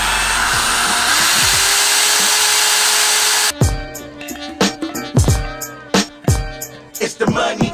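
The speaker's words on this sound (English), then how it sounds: "we actually have to drill a hole right in the middle" A power drill bores a hole during an air suspension install on a Nissan 370z, whining steadily for several seconds before stopping, followed by a series of sharp metallic clanks and knocks close by.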